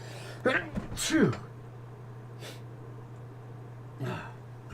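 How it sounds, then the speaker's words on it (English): A narrator reading aloud in a quiet room gives a single sharp sneeze, a short burst with a brief intake before it, over a steady low hum. Faint breaths follow, then another soft burst of breath near the end. "My apologies, I sneezed."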